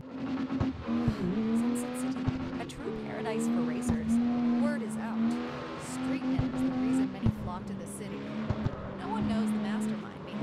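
A heavy car drives through a city in the CarX Street racing game, a sustained engine drone rising and falling with gear changes and short tire squeals. Someone talks over it throughout.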